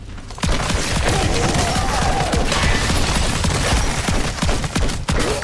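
Rapid gunfire in Call of Duty Modern Warfare 3 Zombies: after a brief quiet start, loud close bursts crackle almost nonstop for about five seconds.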